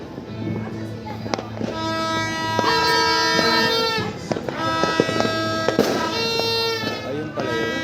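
Crackling bursts and pops of New Year fireworks going off repeatedly in Santa Rosa, Laguna, with a steady background of music or horns and voices talking nearby.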